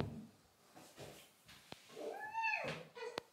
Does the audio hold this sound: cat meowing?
yes